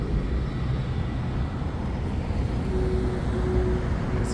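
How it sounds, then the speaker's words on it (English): A huge Air France jet arriving at the airport on Sint Maarten gives off a broad, steady roar that holds level throughout, heard from a moderate distance. "There's a jet just came in,"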